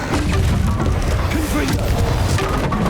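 A Bombarda spell explosion in Hogwarts Legacy on the Switch: a dense, loud booming burst with crackling debris, merged into continuous game sound and music for about three seconds.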